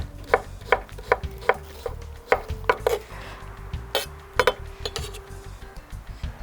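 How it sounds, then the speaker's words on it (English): Knife chopping a tomato into small pieces on a board, a series of crisp, close taps in an uneven rhythm with light clinks between, no talking. "Look, the tomato I cut it in small pieces too."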